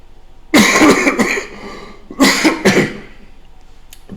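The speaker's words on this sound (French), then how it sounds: "je me retiens de pas tousser" A person with a sore throat, suffering from angina, coughs in two close bursts, each made of a couple of harsh rasping hacks, with a short quiet gap between them.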